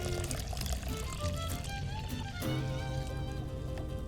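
Water being poured into a blender jar already holding oats and corn grits, a continuous splashing, gurgling pour with rising ringing tones as the container fills, close and steady for several seconds.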